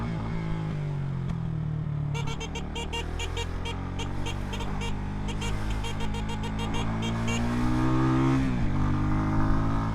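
A small motorcycle ridden on a road in Jamaica, its engine droning steadily and shifting pitch as it speeds up and changes gear, loud and close throughout.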